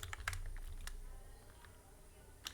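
Quiet, quick clicks from typing on an unusual computer keyboard, in a few short bursts and then sparser taps, with a faint room hum underneath.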